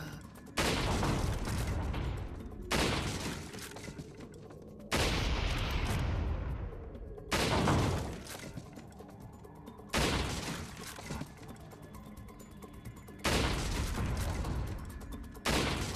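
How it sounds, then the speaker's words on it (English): Rifle shots in Resident Evil 4 VR, six or seven heavy, loud blasts spaced a couple of seconds apart, each with a lingering echoing tail. "One hand rifle shot."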